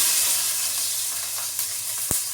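Garlic and capsicum fry in a pan with a loud, bright, close sizzle, with a sharp stirring knock near the end.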